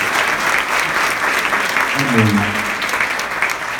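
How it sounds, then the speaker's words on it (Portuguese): A congregation at a church ministerial meeting applauds steadily, a dense wash of clapping while a voice briefly speaks over it. "Vamos aplaudir o nosso Deus."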